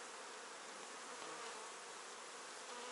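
Dense, steady buzzing of many honeybees swarming close by at an open hive, a continuous insect drone with no pauses.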